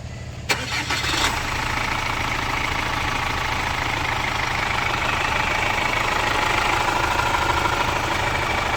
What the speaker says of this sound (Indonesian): Sekarang coba starter bos.